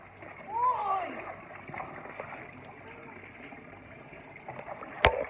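Water splashes and sloshes during a cool bath, with a sharp splash near the end and voices talking over it.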